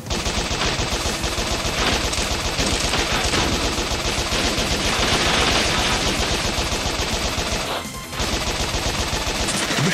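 Rapid machine gun fire rattles nonstop in the Bot Vice final boss stage, loud and dense, with a brief dip in the barrage before it resumes.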